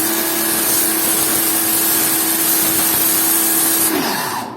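A Kawasaki HPW-302 power pressure washer runs with a loud, steady motor whine and hissing spray close by, then cuts off and winds down near the end.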